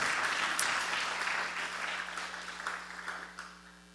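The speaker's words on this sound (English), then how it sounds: "Give me a big round of applause" Audience applause at a career expo after an inspirational speech, a dense steady wash of many hands that fades gradually, with a low steady hum underneath.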